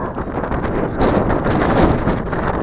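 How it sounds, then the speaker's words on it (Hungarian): Strong gusting wind buffets the microphone on an outdoor walk between Aszófő and Balatonfüred near Lake Balaton, a constant loud low rumble with surges and no voices. "Hát csak most ez a szél, ez nem kéne."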